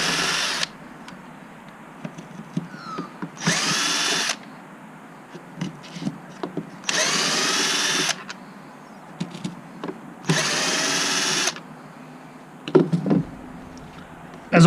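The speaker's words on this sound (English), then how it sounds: "As I remove the screws, I put them in the same pattern that I took them out." A power driver backs screws out of a zip sensor housing in four short whirring bursts, each followed by light clicks and handling noise.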